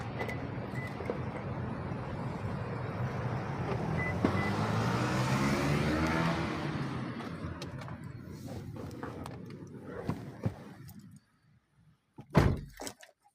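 A car rumbles with a low engine and road noise that swells and fades, a door thunks shut, then near-silence before a few sharp knocks and clunks close by.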